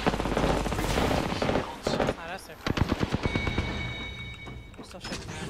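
Rapid automatic gunfire from a first-person shooter video game, loud bursts of repeated shots broken by short pauses, with players talking over the action throughout.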